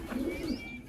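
Pigeons give a brief soft coo at a farm well, a single low throaty call, fairly faint and heard alone.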